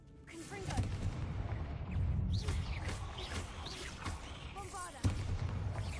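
Blasting spell cast during Hogwarts Legacy combat, heard as dense explosive bursts and booms, with a sharp loud impact near the fifth second, over a busy game soundscape with a voice talking.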